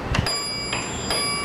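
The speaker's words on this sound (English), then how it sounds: "And every time you push the button, the bell rings." A Dover hydraulic elevator bell, installed in 2001, rings in three short bright dings at an uneven pace, each tone lingering with a faint sustained ring in a quiet space.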